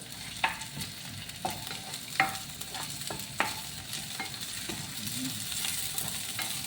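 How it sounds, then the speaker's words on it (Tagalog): Onion sizzles in a frying pan while a utensil stirs and scrapes it, giving a steady crackle with sharp clinks and taps at irregular intervals, up close with no talking. "pa-brown natin yung ating onion bago natin ilagay yung ating corned beef"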